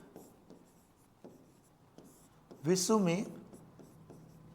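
A pen scratches across a paper map in a series of soft, close strokes and taps, with someone briefly speaking Hindi in the middle.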